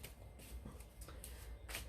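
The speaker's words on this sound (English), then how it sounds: "before I start shuffling" A deck of tarot cards being shuffled gives soft, brief riffling bursts at irregular intervals, close but faint, with no speech.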